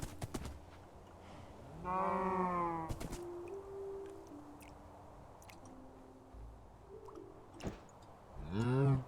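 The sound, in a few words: cows mooing in a video game, likely Minecraft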